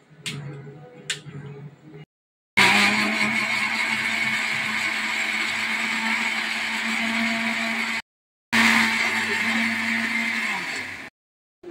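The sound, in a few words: mixer grinder running with water added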